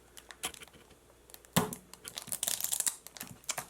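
Dull scissors snip and tear at crinkly cellophane packaging on a video game, with scattered crackles and one sharper rip partway through, fairly quiet and close.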